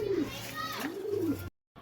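A racing pigeon coos in low, rolling bursts close by, twice within a second, with a voice and yard noise around it before the sound cuts out.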